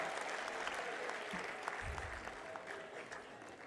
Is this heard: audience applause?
yes